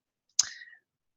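A single short computer mouse click, crisp and close, in an otherwise silent room.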